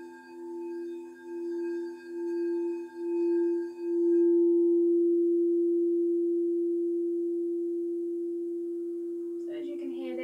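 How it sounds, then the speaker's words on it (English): Crystal singing bowl struck repeatedly with a felt mallet, a pure sustained ringing tone swelling in soft pulses and then decaying slowly, heard up close, with a brief faint noise near the end. "I'm just going to play the one with the felt mallet"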